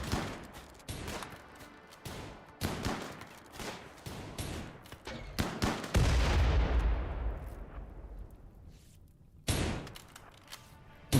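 Scattered gunshots ring out in a video game battle against walls, sharp cracks spaced irregularly, with one heavier boom whose rumble trails off for several seconds before more shots.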